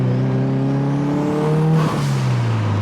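A Mitsubishi EVO accelerates hard during a pull, its engine loud and close with a steadily rising drone, a brief dip like a gear change near the end, and the note climbing again.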